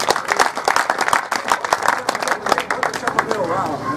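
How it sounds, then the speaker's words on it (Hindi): An audience at an all-India kavi sammelan poetry gathering claps in a brisk, dense burst, the crowd noise mixed with voices and murmur throughout the short stretch. "इसलिए कविता के लिए एक बार तालियां होनी चाहिए आपकी।"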